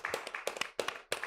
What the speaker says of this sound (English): give us a round of applause in advance